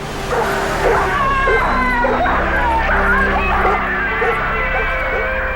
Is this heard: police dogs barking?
yes